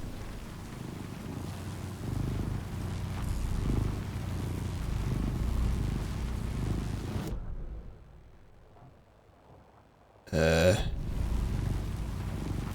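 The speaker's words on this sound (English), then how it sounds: "These generators sound like cats purring." Generators in Alan Wake II giving off a low, steady purring hum, much like a cat, sustained for several seconds in a game level, then dropping away briefly before a short louder burst near the end.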